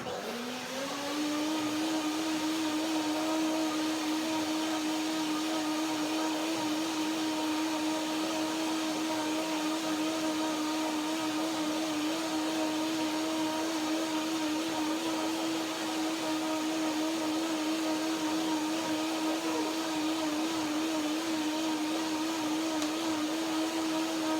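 A blender runs continuously at a steady high whine, loud and close, with a slight pitch wobble throughout and no pauses.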